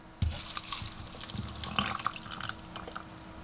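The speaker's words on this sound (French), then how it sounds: "Et me revoilà avec mon petit mug d'eau chaude. Je verse." Hot water pours from a mug onto instant noodles, a close splashing and trickling that begins abruptly and continues unevenly, with small drips and faint clinks, quiet and without talk.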